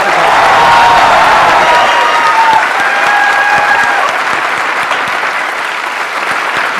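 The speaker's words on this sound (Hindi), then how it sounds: "एक्चुअली हमें उनके लिए आज स्पेशली तालियां बजानी चाहिए" A large audience at a motivational talk event in India breaks into loud, sustained applause that fills the hall with dense clapping from start to finish.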